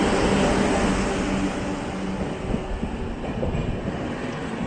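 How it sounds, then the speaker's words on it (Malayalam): The 12686 Mangalore–Chennai Superfast, hauled by WAP-7 locomotive 37180, rolls into the station with a loud, steady, close rumble and rattle of coaches that eases only slightly over a few seconds. "ഇപ്പം നമ്മൾ ട്രെയിനിൻ്റെ കയറി വരുന്നുണ്ട്. 12686 മാംഗ്ലൂർ ചെന്നൈ സൂപ്പർഫാസ്റ്റ്."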